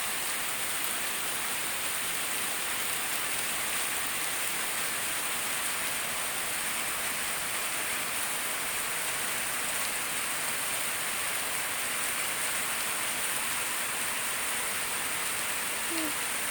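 Heavy rain pours steadily for the whole stretch, a dense, constant hiss of drops striking surfaces nearby, with no voices and no pauses in the downpour.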